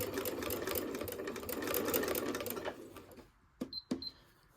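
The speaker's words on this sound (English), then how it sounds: "I'm going to do a back stitch and then go all the way to the corner" A sewing machine back stitches and then runs to the corner of a fabric door latch cover, humming steadily for about three seconds before dropping to a few short, sharp clicks and taps nearby, with no voices.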